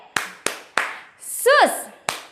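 Children at a church Sunday school service clap hands in a cheer, with five sharp separate claps spread across the moment, and a brief high whistled or squealed sliding call in the middle.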